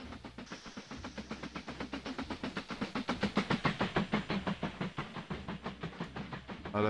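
A game train in Mashinky rolls through a station, steady rhythmic clickety-clack of wheels over rail joints with a hissing, chuffing beat that grows louder mid-pass, with no talking.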